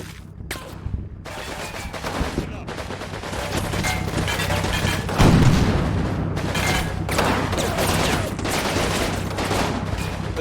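Machine gun fire rattles in bursts across a WWII Normandy battlefield in Combat Mission Normandy, with overlapping gunshots and a heavier thump near the middle. The firing is dense and loud throughout, with no one talking.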